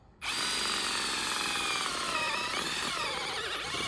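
A power drill bores a flat, horizontal hole into the ground beneath a trash pile for a coyote trap set, starting abruptly and running loud and steady with a slight labouring shift near the end.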